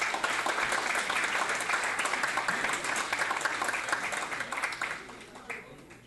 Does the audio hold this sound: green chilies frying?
no